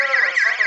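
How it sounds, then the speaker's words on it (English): Abnormal-temperature alarm from a TM-DF05T face temperature scanner, a loud warbling electronic tone that sweeps up and down repeatedly in a brief close burst. "now it's abnormal temperature, it's alarm"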